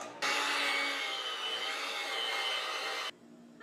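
Cream cheese and powdered sugar beaten with an electric mixer, a steady continuous whirring buzz that starts abruptly, runs for about three seconds, then cuts off.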